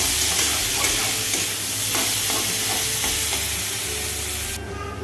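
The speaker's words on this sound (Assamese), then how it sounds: "আৰু বিলাহীখিনি সিজালৈকে মই এনেকৈ ভাজি থাকিম।" Loud, continuous sizzle of tomatoes frying in a pan, with occasional stirring scrapes, no voices.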